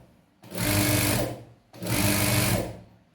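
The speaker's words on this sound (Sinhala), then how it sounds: "මේ විදිහට මහලා ඔයා වේගය හදාගන්න කකුලෙන්." A sewing machine run by foot-pedal speed control stitches in two bursts of about a second each, whirring up quickly, holding steady and stopping, with a short pause between them.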